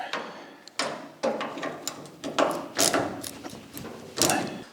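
Bolts on a Cushman Truckster being tightened with a ratchet, giving bursts of clicking and metallic knocks in irregular groups, fairly close and moderately loud, with no talking.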